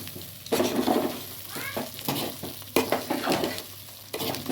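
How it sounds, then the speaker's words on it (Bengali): Food frying in a pan is stirred with a utensil, giving bursts of sizzling and scraping in uneven strokes with quieter gaps between, close by with a faint voice at moments. "এবার এটা আমি নাড়বো।"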